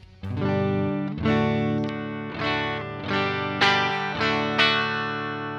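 A clean electric guitar signal through a Boss ME-80 pedalboard, effects off, plays a run of strummed chords, each attack ringing out before the next in a steady rhythm.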